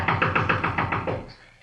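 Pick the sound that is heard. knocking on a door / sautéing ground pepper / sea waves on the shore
knocking on a door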